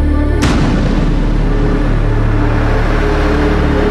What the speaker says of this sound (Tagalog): sumabog na ang bulkan